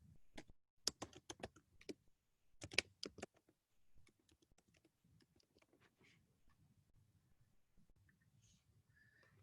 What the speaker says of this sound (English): I'm just going to type into the chat here my email address.